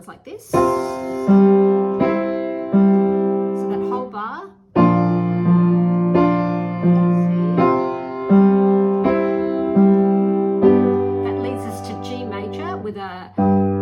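Solo piano playing chords from a song, a left-hand bass note under right-hand chords, struck in a slow sequence of about six sustained chords that ring and decay, close and clear with no talking.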